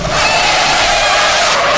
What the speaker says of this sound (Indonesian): Suara klakson yang tertahan disusul dengan benturan keras dan decitan ban yang memilukan.